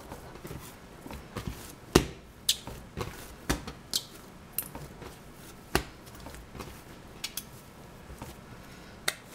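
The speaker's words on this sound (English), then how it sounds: "Try to degas the dough a little." Sourdough dough being pressed and degassed while shaped into a round loaf, a series of soft close pats and slaps at an uneven rhythm, quiet with small pauses between.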